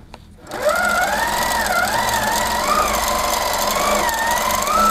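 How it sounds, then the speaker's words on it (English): A Simply Sixteen sewing machine stitches after a brief quiet start, its motor running loud and steady with a rising and falling whine that wavers over a constant hum, close up with no voices. "I can do some more stitching"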